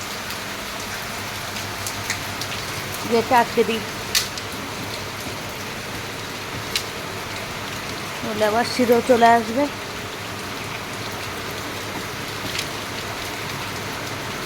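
Heavy rain falls steadily outside at night, making a continuous close hiss. A voice talks briefly twice over it.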